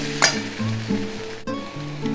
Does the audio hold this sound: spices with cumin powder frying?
yes